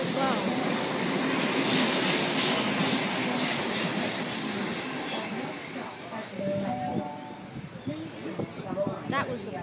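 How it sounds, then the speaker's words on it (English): Two trains speed through platforms at a suburban rail station between Oatley and Sutherland, a loud sustained rushing roar with high hiss that swells and then fades, with some clattering toward the end. "That was the fastest I've ever seen two trains go through there for ages."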